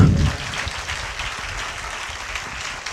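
A church congregation bursts into applause, a broad wash of many hands clapping that swells at the start and then carries on steadily, close and full, with no speech over it.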